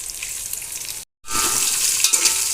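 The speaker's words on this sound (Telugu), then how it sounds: "ఇవి అన్నీ లైట్గా ఫ్రై అయ్యేంత వరకు కుక్ చేసుకుందాము" Thickly cut onions, carrot and curry leaves fry in a pan for a hotel-style puri curry, giving a close, steady sizzle that cuts out briefly before returning with soft stirring scrapes and no voices.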